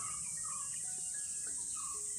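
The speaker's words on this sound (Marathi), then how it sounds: "रातकिऱ्यांचा आवाज बघा" A steady, high-pitched chorus of crickets trills continuously, with faint distant chirps mixed in.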